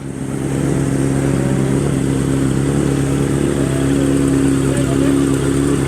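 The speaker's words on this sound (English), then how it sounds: "RC30 is doing a lap." A rare Honda RC30 motorcycle being ridden on a lap: its engine drones steadily and loudly throughout, a sustained mid-pitched roar with no voices.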